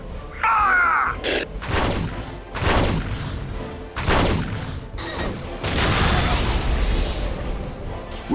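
Basilisk artillery in the Dawn of War Winter Assault game fires a series of heavy booming blasts with crashing, rumbling tails, several shots spaced over a few seconds amid chaotic battle noise.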